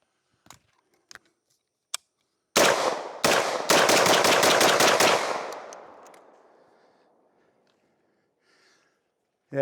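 A Vepr 12 short-barrel shotgun firing Black Aces buckshot outdoors at a range: a few light clicks, then a rapid string of loud, close blasts that ring out and fade into a long echoing tail.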